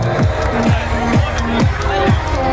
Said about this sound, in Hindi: राजपुरोहित सुपुत्र अर्जुन सिंह जी राजपुरोहित अभिनंदन करते रहे तालियों का।